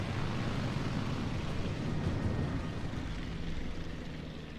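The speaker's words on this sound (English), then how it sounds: "we can get them both ready for takeoff, and you can actually see them taking off" Carrier plane squadrons lift off from a Langley class carrier in World of Warships, a steady, close propeller-engine roar that holds evenly throughout and fades slightly at the end, with no talking.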